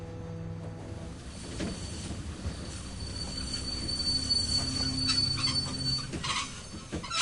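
A video game train rumbles steadily with metallic wheel squealing and a droning engine, loud and continuous throughout, in The Walking Dead game.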